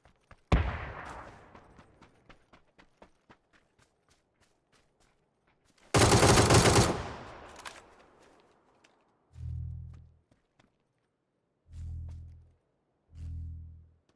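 Gunfire in PUBG: a rapid burst of shots at the start fading into echoing tails, then a loud sharp blast around midway, followed by three dull low thuds, with no talking.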